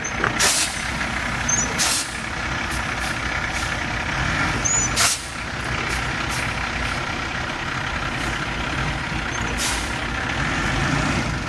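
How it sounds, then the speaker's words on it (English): Dump trucks deliver loads of dirt to a house lot, diesel engines rumbling steadily nearby while sharp hisses of air brakes burst out several times, along with faint beeps. "Got 4 trucks running today, bringing dirt in."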